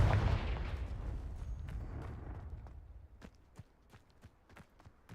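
Confringo fire-blast spell cast in Hogwarts Legacy, a loud booming burst that decays into a rumbling tail, followed by a scatter of sharp clicks and taps, with no speech.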